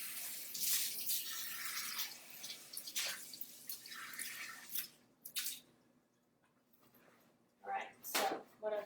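Water splashing and dripping as a measuring cup used for cream is rinsed out, with irregular close splashes and trickles fading into quiet, then a few final drips and clinks.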